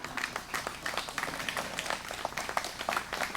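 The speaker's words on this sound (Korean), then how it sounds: "여러분 다시 한번 큰 박수 부탁드리겠습니다." A gathering at a memorial monument unveiling ceremony claps in scattered, uneven bursts, with individual hand claps standing out against a moderate level of applause.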